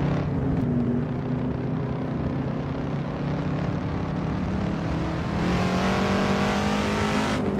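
Car engine in the racing game Assetto Corsa revving hard and steadily, a loud continuous drone that climbs in pitch as it accelerates, filling the whole stretch alone.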